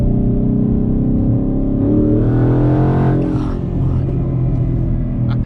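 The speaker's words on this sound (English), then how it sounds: "this is about just a little half throttle pull" A loud twin-turbo car engine pulls hard at half throttle, its rumble climbing steadily in pitch before easing off near the end.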